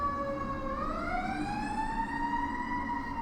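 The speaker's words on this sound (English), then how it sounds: "It looks like a fire truck going by." A fire truck siren going by outdoors, its wailing pitch sweeping upward and then holding, moderately distant and fairly quiet, with no voices over it.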